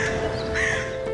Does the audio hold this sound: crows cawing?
yes